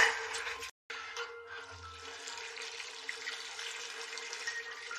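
Water pours steadily from a watering can onto newly planted potatoes in pots, a soft continuous splashing and trickle close by, briefly cut off once near the start.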